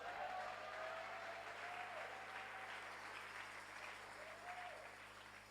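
A church congregation applauds the Lord during a Sunday worship service, a full, steady wash of clapping that carries on for about five seconds and fades slightly toward the end.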